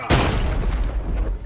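A red grenade detonates in Warhammer 40k: Chaos Gate – Daemonhunters, giving one sharp, loud boom followed by a long low rumbling tail.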